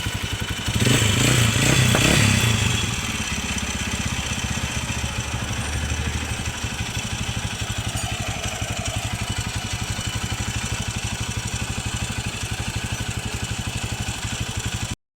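A motorcycle engine starts with a brief loud rev and settles into a steady, close, rapid idle with light mechanical clatter, running on evenly for several seconds without speech.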